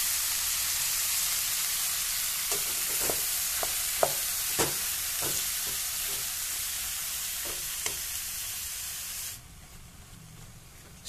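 Vegetables with pumpkin flowers stirred in a hot pan, steady frying sizzle and hiss with a run of clear spatula scrapes and taps in the middle, quieting near the end, no voices.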